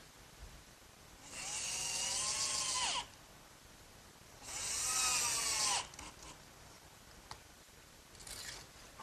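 A power drill drives screws into glued workbench feet in two separate whirring bursts, each about a second and a half long, with pauses between; faint and fairly distant.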